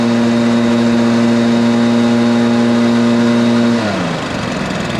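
Stihl BR430 backpack leaf blower engine holding a loud, steady high-pitched drone at full throttle after coming off choke, the pitch dropping sharply near the end as it bogs down; no talking.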